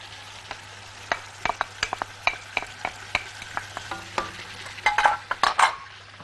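Meat and onions frying in a pan, with a soft sizzle under irregular scraping and tapping clicks from stirring that grow busier and louder toward the end.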